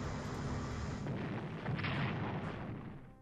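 A dense, rumbling barrage of explosions hits a battleship in a World War II strategy video game, swelling briefly and then fading, with no voices over it.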